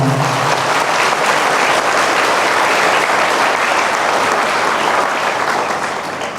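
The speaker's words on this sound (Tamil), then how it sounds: "கட்டிட பணியாளர்கள் எல்லாருக்கும் சேர்ந்து கைதட்டுவோமா" A church congregation at a consecration ceremony in Gnananagar, Thanjavur claps together for the building workers, loud dense applause that holds steady for several seconds and tapers slightly at the end.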